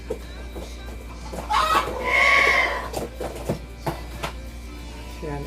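Farmyard chickens clucking in short scattered calls around a rural hut, with a rooster crowing once loudly in the middle, fairly close, amid light background noise.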